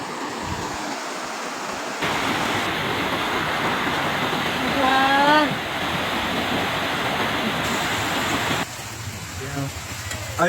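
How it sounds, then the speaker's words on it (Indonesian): The flooded Aek Doras river rushes past, thick with muddy water and carried wood, a loud, continuous roar close by with a voice briefly heard over it. "Air keruh bercampur lumpur dan material kayu mengalir kencang ke arah hilir."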